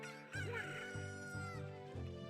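Cucco rooster in Zelda Ocarina of Time 3D crowing loud and close, a drawn-out synthetic call over a steady repeating game music loop.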